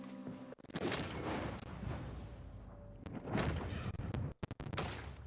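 Several loud gunshots in the video game Red Dead Redemption 2, with booming reports and echoing tails spaced across the moment, ending with a quick cluster of sharp shots.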